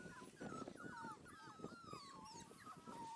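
Five-week-old Dalmatian puppies whimper and yip in a steady string of high, wavering cries, close and fairly loud, with no talk over them.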